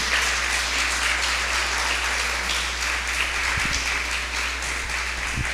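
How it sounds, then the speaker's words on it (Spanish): Sustained applause from a church congregation, a dense, even wash of clapping hands that stays steady and fairly loud throughout, with no voices standing out. "¿Cuántos dan un aplauso al que vive?"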